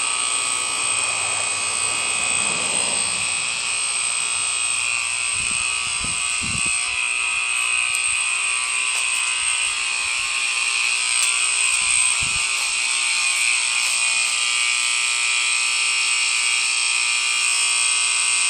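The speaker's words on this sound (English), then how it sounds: "The alarm's going off apparently." A water tower alarm next door sounds as a continuous, shrill electronic buzzing tone, steady and unbroken for the whole stretch, with a few faint clunks and knocks nearby.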